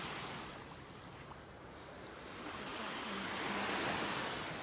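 Ocean surf rolls onto a Naples, Florida beach, a broad continuous wash that swells louder toward the end, with some wind buffeting the microphone and no voices.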